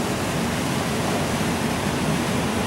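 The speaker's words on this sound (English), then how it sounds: "And that sound of the waterfall is just great." A waterfall pours beside a shallow stream below rocky bluffs, a dense, even rushing roar that is loud and close, steady for the whole stretch with no voices.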